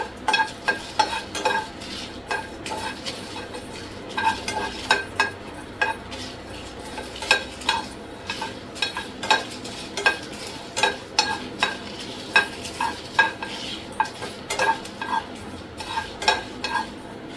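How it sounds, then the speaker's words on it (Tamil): Cloves and whole spices dry-roasting in a pan, stirred with a spoon in a steady rhythm of repeated scraping clinks and rattles, close and fairly loud, with no voices. "தீய விடாமல் நல்லா வாசனை வர வரைக்கும் நல்லா வறுத்துக்கோங்க"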